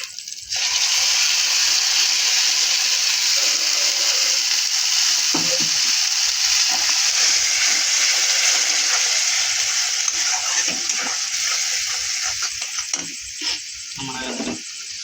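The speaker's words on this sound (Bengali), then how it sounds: "আমাদের মশলাটা লাল হয়ে গেছে ভাজাটা, এখন আমরা টমেটোর পেস্টটা দিব" Spice masala sizzles steadily in hot oil in a home kitchen, being fried for a sour curry of small fish with hog plums, with a loud, continuous crackle and occasional stirring scrapes.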